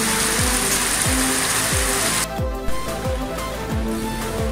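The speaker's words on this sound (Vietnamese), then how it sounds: "Mưa lớn đó ở trong nhà." Heavy rain falls outside a house, heard from indoors as a dense, loud, steady hiss with a regular low thumping rhythm running beneath it.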